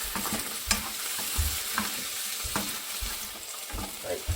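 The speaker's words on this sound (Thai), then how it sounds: "ก็ผัดใส่เต้าหู้แล้วก็ใส่เครื่องปรุงญี่ปุ่น ผัดผัดผัดผัด" Tofu and Japanese seasoning are stir-fried in a pan, giving a steady close sizzle with repeated scraping and knocking strokes of the spatula at a loose, uneven rhythm.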